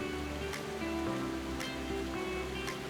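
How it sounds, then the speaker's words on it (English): Chamarel Waterfall in Mauritius, a single drop of nearly 100 meters in lush forest, gives a steady, dense roar of falling water that stays constant throughout, with no voices. "Cascading from nearly 100 meters, it's the tallest single-drop waterfall in the country."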